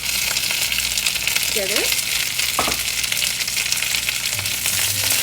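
Vegetables are tipped into a frying pan of browned sausages for a one-pan breakfast skillet. A loud, steady sizzle fills the whole stretch, and a voice briefly speaks over it.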